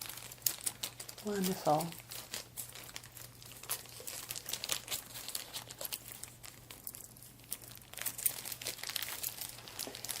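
A small plastic baggie crinkles as it is handled, with a bright burst of crinkling early on and softer scattered rustles after, close and quiet, while a voice speaks briefly.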